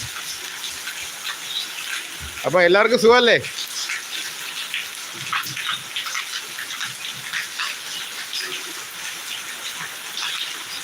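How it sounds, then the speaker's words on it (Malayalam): Summer rain falls steadily in Trivandrum, a soft continuous wash of water under a voice, with a brief louder burst of talk near the start. "ഇന്ന് നമ്മുടെ ഇവിടെ നിന്ന് മഴയൊക്കെ കണ്ട് ഇങ്ങനെ എൻജോയ് ചെയ്യാണ്"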